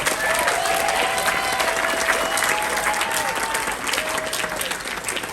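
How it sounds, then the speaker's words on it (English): Sustained audience applause from a crowd at a film screening Q&A, steady and fairly loud throughout with a few faint voices or whistles mixed in. "So let's give them a round of applause."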